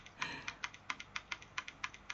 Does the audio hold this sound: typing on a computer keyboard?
yes